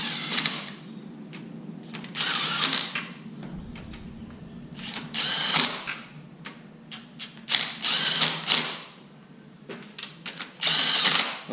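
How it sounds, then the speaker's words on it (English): A power tool runs bolts down snug on a 2014 Ford F550 V10 engine assembly in short mechanical whirring bursts with pauses between them, close up and without speech. "I'll run these down just snug. Basically just till the bolt touches."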